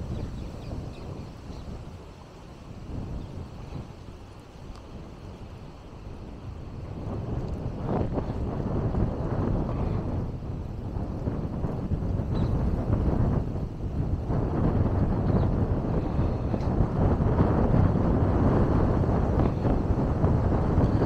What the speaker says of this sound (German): Ja, hier pfeift ja richtig der Wind.